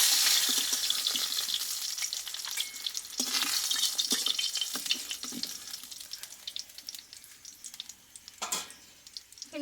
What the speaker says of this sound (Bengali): দেখো বাকি মাছগুলো ভেজে নেবো আমি